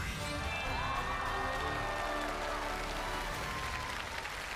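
Studio audience at a Chinese New Year gala poetry competition show applauds a contestant, steady loud clapping mixed with some cheering and musical tones underneath, continuous throughout.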